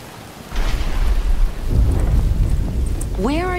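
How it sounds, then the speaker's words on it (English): Heavy rain pours steadily with a deep thunder rumble in a Batman video game, loud and continuous, and a voice joins near the end. "But it's starting to rain."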